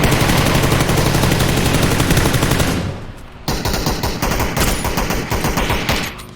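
Rapid automatic gunfire in the battle royale game PUBG, loud and close, a sustained burst that breaks off briefly and then resumes in another fast continuous volley.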